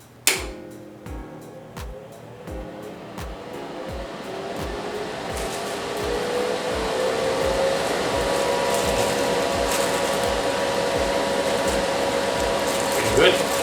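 A dual-fan spray booth exhaust fan starts up and builds to a steady rushing whir with a rising tone, accompanied by regular mechanical ticks, close and fairly loud.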